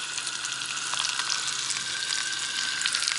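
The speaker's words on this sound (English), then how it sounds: "Frying some hot dogs." Hot dogs sizzling and frying in a cast iron skillet outdoors by a river, a constant crackling hiss with no talking.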